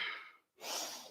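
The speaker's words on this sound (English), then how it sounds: "Exhale, release both." Breath during a Kundalini yoga back mobility exercise: a soft, close breath, a brief pause, then a longer airy exhale, quiet and alone.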